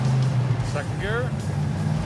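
A Cutlass drives along the road in second gear, its engine a steady close low drone under the cabin, while a person talks briefly over it.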